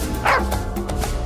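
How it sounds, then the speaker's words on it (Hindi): A cartoon dog barks at a kitten, a loud close yapping bark followed by shorter yips and whimpering sounds, no talk over it. "देखो बिल्ली के बच्चे को कुत्ता परेशान कर रहा है।"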